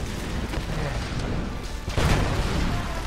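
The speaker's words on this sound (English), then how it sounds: "Why are there so many explosions?" Explosions in the Tomb Raider video game roll out in a dense, rumbling barrage, with a heavier blast hitting about two-thirds of the way through and continuing loud to the end.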